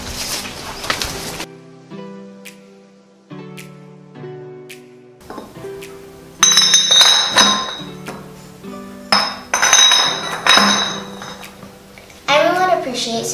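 Glass bottles clinking together as they are handled for recycling, with sharp ringing clinks and rattles in uneven bursts, some louder clusters, and a voice speaking partway through.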